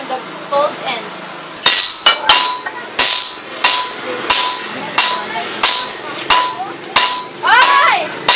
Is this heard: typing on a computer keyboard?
no